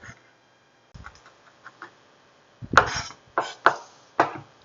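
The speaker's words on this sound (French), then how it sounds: "On va hacher notre ail" Knife chopping garlic on a cutting board in a home kitchen, a few light taps followed by several sharper, louder chops in an uneven rhythm, close and alone.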